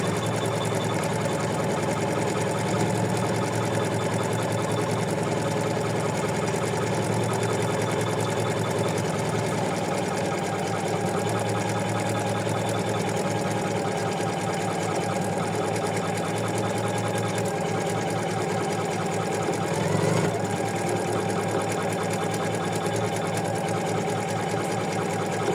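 An embroidery machine stitches an in-the-hoop mermaid bookmark, its rapid needle hum steady and loud throughout without pause.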